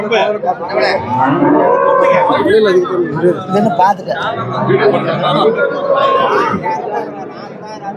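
Cattle low and moo amid a busy crowd at a livestock market in Seenapuram, with people chattering loudly throughout and animal calls rising over the hubbub.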